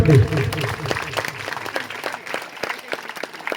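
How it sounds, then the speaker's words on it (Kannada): A crowd claps at an Ayyappa Swamy temple puja in Hubballi. Scattered, sharp handclaps ring out, denser at first under a brief voice, then thinning into separate claps. "ಜೋರಾಗಿ ಚಪ್ಪಾಳೆ"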